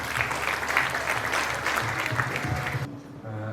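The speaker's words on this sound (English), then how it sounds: "A round of applause, please." A crowd at a national journalism awards ceremony claps in a dense, lively burst of applause that cuts off near the end, leaving a quieter room with a faint voice.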